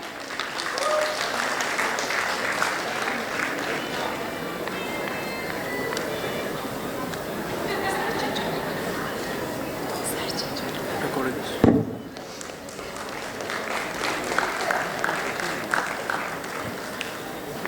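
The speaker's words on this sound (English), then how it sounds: "Let's give a big round of applause for Dr. Devotosh Basu." A crowd claps steadily and loudly at a medical college convocation, with one sharp thump near the middle, and the applause carries on afterward.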